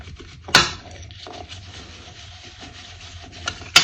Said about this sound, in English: And give that a good burnishing.